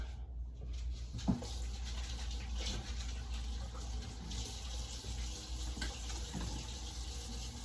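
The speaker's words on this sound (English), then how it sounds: "I'll rinse my hands real quick" Hands being rinsed under a running kitchen tap while making meatloaf, a steady close water stream with a brief splash near the start, continuing without talk.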